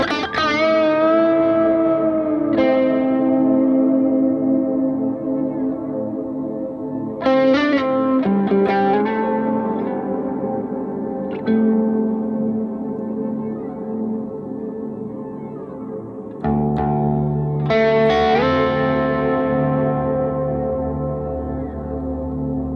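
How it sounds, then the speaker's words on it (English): Electric guitar played through a BOSS GT Plexi/Brit Stack amp model with added external reverb rings out in sustained, slightly distorted chords and notes, each phrase left hanging with long reverb tails, loud and alone without talk. "add an external reverb."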